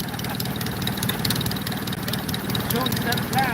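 The Ford Model A engine of a Pietenpol homebuilt aircraft runs on its first start of the year, a steady, rough, throbbing idle held close and loud throughout, with voices faintly mixed in.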